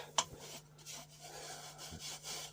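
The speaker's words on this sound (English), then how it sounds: "Now, all I gotta do is sand that." Sandpaper rubs against a rough-turned wooden bowl in a short burst of soft, quiet scraping strokes, with a brief sharp tick near the start.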